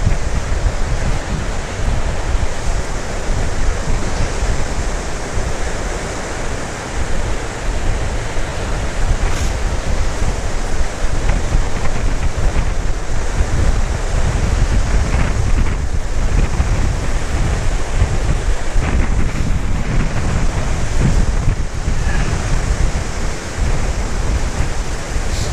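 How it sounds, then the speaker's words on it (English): Strong wind and large waves crashing on the autumn shore of Lake Geneva, a loud continuous roar of surf with constant wind rumble against the microphone, steady for the whole stretch with no voices. "the wind sails across that lake and slams into this shore, and it brings these huge waves with it"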